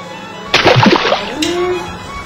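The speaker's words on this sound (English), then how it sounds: "I'm going to put it into the egg wash, which is simply just eggs and a little bit of water" A piece of fish dunked into a bowl of egg wash made of eggs and water, a short wet slosh and splatter close up, followed by a faint trailing drip and a quiet voice.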